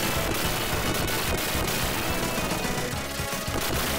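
The force weapon in the Gunstar Heroes video game fires in a dense, continuous burst of loud, harsh blasts that runs without a break, with no speech.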